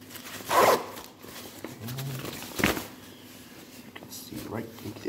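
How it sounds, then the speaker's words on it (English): YKK pit zippers on an ECWCS Gen 2 M81 woodland Gore-Tex parka being opened, with two short, close zipping rasps amid fabric handling. "they're all durable YKK zippers."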